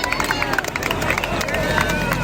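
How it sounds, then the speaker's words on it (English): Roadside crowd at the Tour de France cheering and clapping as the riders pass, a dense, loud hubbub of shouts and applause with whistles and calls rising over it throughout. "play some noise from the crowd as you can hear what it's like"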